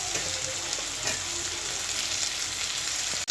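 Potatoes added to cooked-down spiced masala sizzle and fry in a continuous, dense crackle, close and steady throughout with no voices.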